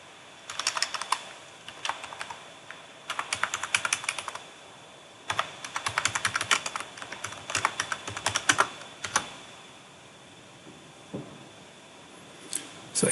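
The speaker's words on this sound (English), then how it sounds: "here I'll type the cluster IP" Computer keyboard typing an IP address, quick bursts of crisp key taps separated by short pauses, close and alone.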